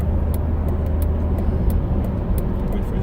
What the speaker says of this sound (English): Wait for this traffic here.